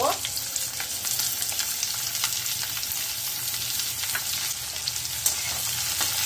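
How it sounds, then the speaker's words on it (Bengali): A large sliced onion hits hot whole cumin seeds in a pan and sizzles loudly, a continuous close frying crackle with a few sharper pops and faint stirring. "গোটা জিরে ফোড়ন গরম হয়ে গেলে এবার আমি স্লাইস করে কাটা একটা বড় সাইজের পেঁয়াজ এর মধ্যে দিয়ে দেব"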